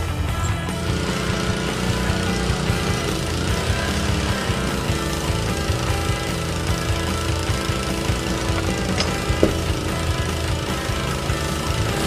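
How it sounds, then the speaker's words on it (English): A 40-ton hydraulic ram pulls a 150-foot cable drawing high-density polyethylene pipe through a sewer line during trenchless repair in San Francisco, giving a steady, droning engine-driven hum with rapid pulsing, constant and mid-distance. "The 40-ton hydraulic ram pulls the cable through the pipe"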